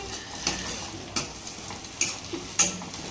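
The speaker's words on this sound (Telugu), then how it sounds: "ఇలా మొత్తం కలుపుకోవాలి, ఎందుకంటే మనం పచ్చిమిరకాయలు కారం వేసుకోవాలి కాబట్టి." Green chillies and eggs are stirred in a frying pan. A low sizzle runs under four separate spatula scrapes and clacks, spaced roughly half a second to a second apart.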